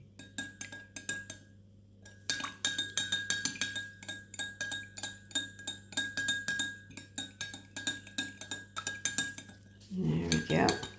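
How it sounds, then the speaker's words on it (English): A utensil stirs a liquid wax melt mixture in a container, producing a steady rhythm of close, bright clinks and scrapes against the sides, repeating rapidly for several seconds before a brief voice near the end. "I like to stir mine for at least 2 minutes"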